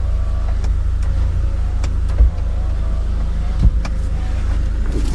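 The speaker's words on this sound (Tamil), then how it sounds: "பவர் விண்டோ வந்து ஒர்க் ஆகுதான்னு செக் பண்ணிடலாம்." A car's power window motor hums steadily inside the vehicle over a constant low drone, with a few faint clicks along the way.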